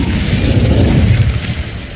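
In Hogwarts Legacy, the Incendio fire spell is cast with a loud, roaring burst of flame that rumbles and crackles for about two seconds, close and forceful, with no voices.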